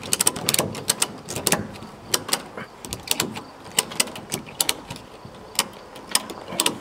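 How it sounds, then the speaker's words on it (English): A ratchet strap is cranked tight across rough sawn lumber on an off-grid outdoor kitchen build, giving a close series of sharp, irregular clicking pawl ratchets over faint background noise. "let's get the ratchet strap on here and see how much we can suck this gap tight"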